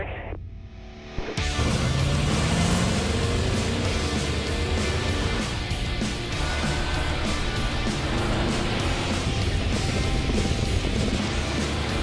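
Full-size pickup trucks towing 7,000-pound trailers accelerate uphill at full throttle on Davis Dam Road, engines roaring in over a second of quiet, then a sustained loud, broad drone with rising whine as they climb.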